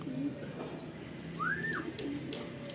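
Racing pigeons arriving back at their loft after a 100 km race coo softly in low, rolling phrases, with a brief rising whistle and a few light clicks and flutters close by.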